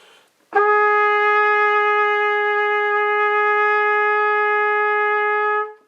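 A clarinet sustains one steady, clear note for about five seconds after a sharp attack, alone and unaccompanied, then stops cleanly.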